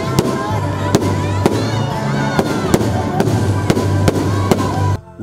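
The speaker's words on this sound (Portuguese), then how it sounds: "foi seguido por um show de fogos de artifício" A fireworks show opening the Christmas lights in Erechim bursts with sharp, regular bangs and crackles over continuous loud noise, and voices can be heard underneath.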